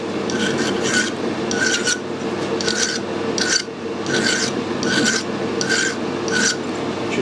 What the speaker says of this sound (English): I'm going to file the taper on so the die starts nicely.